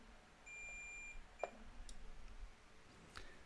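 A multimeter's continuity tester gives one faint, steady electronic beep lasting about half a second, followed by a few soft clicks in a quiet room.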